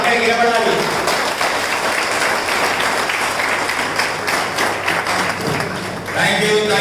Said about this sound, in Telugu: మీ చప్పట్ల మోత అక్కడికి నిలబడాలి